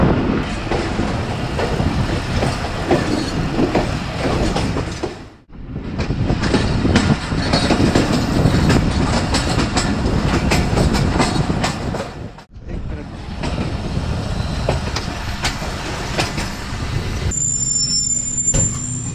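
The 40 Down Jaffar Express passenger train, heard from on board between Rawalpindi and Lalamusa near Gujar Khan, runs on the rails with a loud continuous rumble and clatter, broken by two brief drops.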